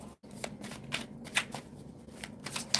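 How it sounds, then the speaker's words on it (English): Tarot cards are shuffled close up in a quick run of crisp riffles and flicks. The brief bursts are moderately loud against a quiet room, with no talking. "Let me do a good shuffle."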